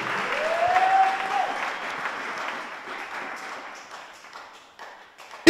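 A congregation at a national student Christian fellowship conference in Bagamoyo applauds for the Lord, a loud burst of clapping that swells early and gradually thins out toward the end.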